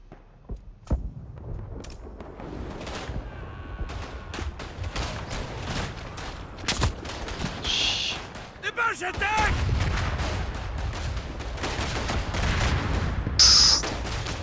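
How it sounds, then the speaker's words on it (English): Artillery shells exploding on a trench battlefield in the World War I shooter Verdun, heavy booms and cracks mixed with rifle and machine-gun fire, some blasts close and loud, others more distant, with players talking over it. "Just dodge one artillery shell."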